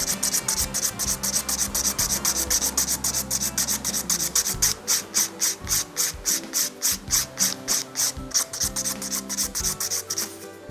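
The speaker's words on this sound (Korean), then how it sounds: "가볍게 탑젤 부분과 두꺼운 부분만 살짝 갈아내 주시고" A nail file scraping down a thick gel nail coating, steady rapid back-and-forth rasping strokes close up, slowing into a distinct rhythmic pattern toward the end, with no voices.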